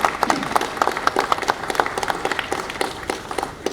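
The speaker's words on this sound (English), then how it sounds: "If you could please give them a round of applause." An audience at an airport event celebrating an inaugural flight to Paris claps for the board members, a lively, moderately close round of applause with distinct individual claps that holds steady throughout.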